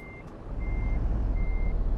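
A truck's reversing beeper in a driving video game, three evenly spaced high electronic beeps over a loud, steady engine drone, with no talking.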